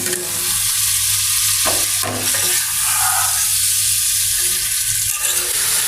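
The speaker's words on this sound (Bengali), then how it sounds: "এখন ডাটাগুলো ভালো করে কষিয়ে নেবো কিছুক্ষণ" Drumsticks fry in a mustard spice paste with a loud, dense, continuous sizzle and a few scraping stirs over a low steady hum, close up and with no voices.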